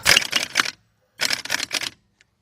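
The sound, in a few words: impact gun tightening a bolt on car brakes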